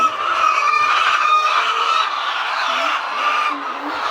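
Chickens on a farm cluck and call continuously up close, a busy overlapping chorus of fowl at steady loudness.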